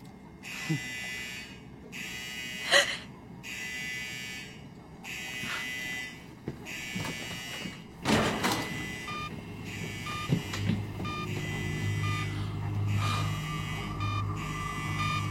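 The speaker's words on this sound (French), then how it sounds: "C'est sûrement une alarme défectueuse." A faulty alarm buzzes aboard an airplane cabin in a film, sounding in repeated steady pulses with gaps, under a cabin hum and a low tone that joins later, with occasional clunks.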